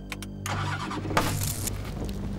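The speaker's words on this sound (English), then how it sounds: "She started up the Land Rover." A Land Rover with a faulty ignition switch cranks and catches, a few sharp clicks followed by the engine turning over and settling into a low rumble, heard fairly quietly.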